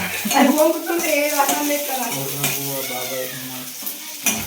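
Sliced onions and chillies fry and are stirred in a pan for spicy Maggi noodles, a soft sizzle with utensil scrapes and clinks under a person talking nearby.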